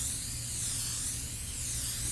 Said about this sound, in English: So now I'm just going to spray this with some vegetable spray.